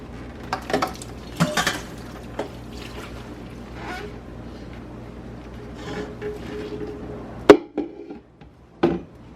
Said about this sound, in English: I gotta empty this pot, empty the fat without burning myself